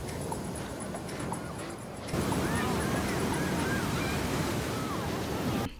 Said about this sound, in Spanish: las olas así de grandes